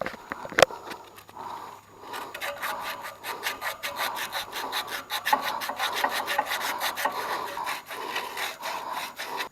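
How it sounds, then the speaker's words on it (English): Sandpaper scrubs back and forth over the pipe ends of a scroll compressor to clean them, a steady rhythmic rasping heard up close with no talk. "we want to take a piece of sandpaper like this here, and we want to take and clean these parts where it goes into the compressor"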